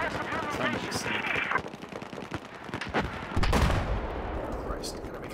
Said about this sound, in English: I am eyes on an enemy machine gun.